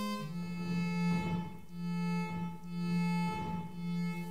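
A Mixtur-Trautonium sounds sustained electronic tones with little reverb, a low steady pitch with bright overtones that swells and dips in several pulses, alone and clear.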